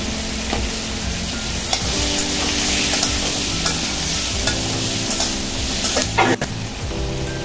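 Malabar spinach stalks fry with salt and turmeric in a steady, loud close sizzle, stirred now and then with scraping clinks, with no voices.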